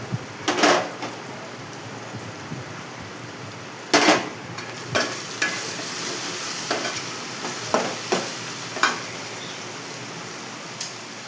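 Green chillies and onions frying in oil in a pan, a steady background sizzle broken by several sharp stirring clanks and scrapes of a utensil against the pan, with no talking.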